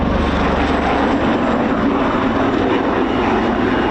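Display aircraft reverse direction in a wing over at the RAF Cosford air show, a loud, continuous engine roar that stays close and sustained throughout, with no voices over it.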